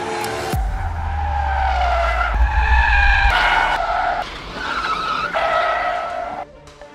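Tires skid and squeal in long, loud screeching bursts as a car drifts, its engine roaring beneath, with short breaks between slides and the sound dropping away at the end.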